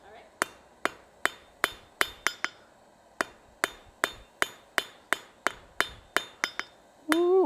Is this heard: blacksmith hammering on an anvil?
yes